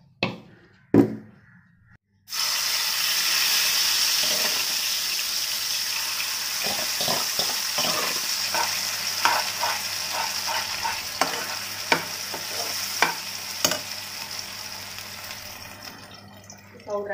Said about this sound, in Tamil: நம்ம இதை தாளிச்சிடலாம்.